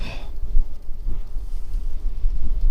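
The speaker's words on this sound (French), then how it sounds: "J'ai le vent de face un peu." Strong headwind buffets the microphone while riding an electric bike along a coastal cycle path near the beaches of Noordwijk and Katwijk, a steady low roar with gusty swells throughout.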